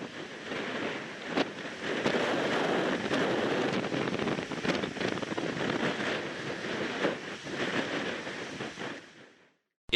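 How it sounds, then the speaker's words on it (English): Strong wind roars outdoors at a hot spring on Iceland's Golden Circle, a loud, steady, broadband rush that gusts slightly and holds for about ten seconds before cutting off, with no voices. "It was still really windy outside"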